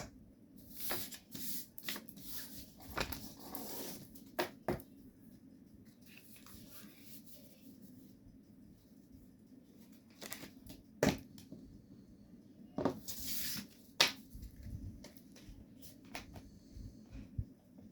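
Tarot cards are shuffled in bursts of quick riffling and soft slaps, quiet and close, with pauses between handfuls.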